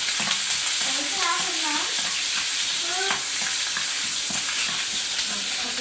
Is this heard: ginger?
yes